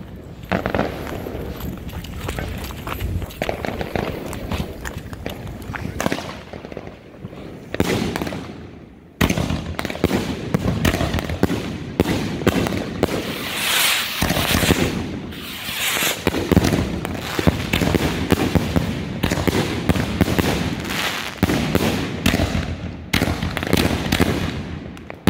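A 100-shot salute cake and rockets go off outdoors in long rapid barrages of sharp bangs and crackles, loud and sustained with brief gaps, while voices call out faintly in the background.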